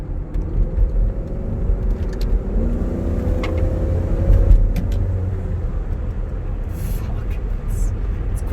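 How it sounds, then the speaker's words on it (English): An old Range Rover Vogue V8 accelerates as a loud, deep engine rumble with rising tones, heard from inside the car under some faint background sounds. "For a big, heavy, old, smelly V8, it's a very quick car."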